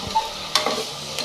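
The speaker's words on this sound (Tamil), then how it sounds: "நான் கருவேப்பிலை இந்த டைமில் போட்டு இங்கே வதக்கிடணும்." Curry leaves sauté in a hot oiled pan for a Tanjavur-style cluster bean sambar, a close, lively sizzle and crackle with a couple of sharp spits and a stirring scrape.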